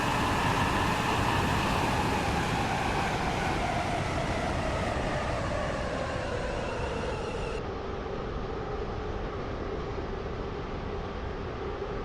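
A train running in the Roblox game Stepford County Railway: a steady, loud rolling rumble with a broad wash of track noise that holds throughout and eases slightly partway through.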